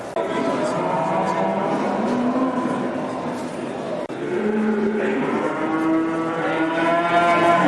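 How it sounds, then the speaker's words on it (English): Cattle lowing repeatedly at a busy livestock market where cows and sheep are sold, with several overlapping moos close by amid crowd chatter and background talk. "we've come along to Hexham livestock market where they sell cows and sheep and that kind of thing"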